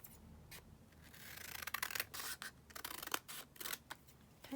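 Paper being trimmed down with scissors for a folio: repeated close snips and rustling paper, fairly quiet, with no talk.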